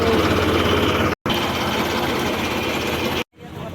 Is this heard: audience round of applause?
no